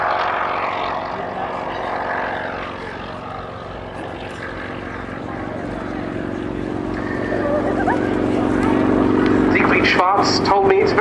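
A Bristol 171 Sycamore helicopter, owned by the Flying Bulls, flies at the 2018 Cosford airshow with a continuous engine and rotor drone that swells louder toward the end, while a commentator talks over it.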